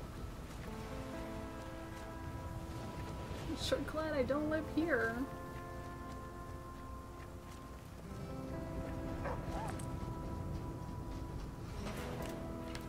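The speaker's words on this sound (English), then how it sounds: "And it's raining again." Rain falling in the video game Flame in the Flood, a soft steady hiss in the background with music notes and someone talking over it.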